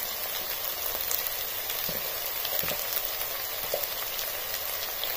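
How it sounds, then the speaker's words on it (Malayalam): Chili and pepper powder fry in hot oil for a curry, giving a steady, close sizzle with faint crackles and occasional stirring taps, and no talk. "ഇനി ഇതെല്ലാം കൂടിയിട്ട് നമുക്ക് ഈ പൊടി ഒന്ന് നന്നായിട്ട് എണ്ണയിലിട്ട് ആ പച്ചമണം മാറുന്ന വരെ നമുക്കൊന്ന് മൂപ്പിച്ചെടുക്കാം"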